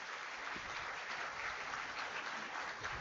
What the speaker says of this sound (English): you all can please join in this welcome with a big round of applause